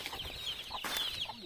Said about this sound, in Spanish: Eso es un gallo